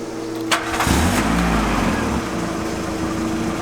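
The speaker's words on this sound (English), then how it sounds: "we have got the Golf running again. Here's proof." A carburettor engine in a VW Golf Mk2 under restoration cranks briefly, catches with a burst, and settles into a steady, close idle with no talking.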